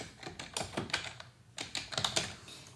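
Quiet tapping on a computer keyboard as a name is typed into a patient portal, heard as short bursts of close keystrokes with a brief pause midway.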